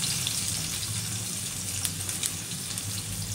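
Pangas fish frying in a wok over a stove: a steady bright sizzle and crackle of hot oil that runs unbroken, with a few sharper pops.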